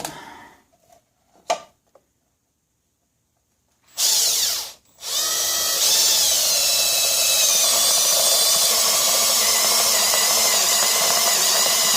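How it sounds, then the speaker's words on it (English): A power drill whines steadily as a step bit cuts through metal for a custom volt meter gauge panel on a 1975 Vanguard Citicar, loud and continuous after a few brief starts and pauses. "I'm going to grab a step bit. It was already in the drill."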